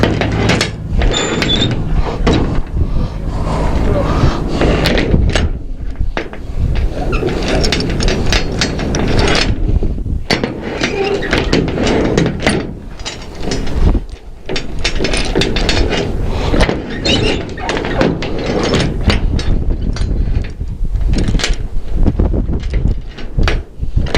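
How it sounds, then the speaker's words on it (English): Ratchet load binders are cranked to tighten chains over a load of steel plate, producing loud, continuous metallic clicking and clanking with only brief pauses. "So once we got our binders on, we're going to tighten everything up."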